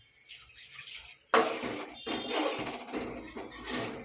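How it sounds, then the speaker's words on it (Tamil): Water pours suddenly and continuously into a pot of bitter gourd and mango tamarind curry, a close, splashy gush following a quieter moment with faint kitchen noise. "கொஞ்சம் தண்ணி ஊற்றிக்கலாம் பாருங்கள்"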